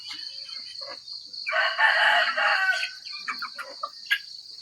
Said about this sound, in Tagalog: Mao ni atong mga manok guys